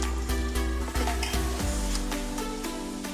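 Semolina (suji) roasting in a pan for halwa, a steady close sizzle with a rhythmic series of scraping stirs and taps from a spoon against the pan, without any talk.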